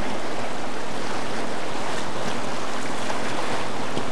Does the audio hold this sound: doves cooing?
no